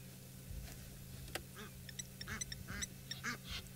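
A flock of geese with a gosling calls out on an African safari, the faint, distant honks coming in short, scattered bursts over quiet background hiss.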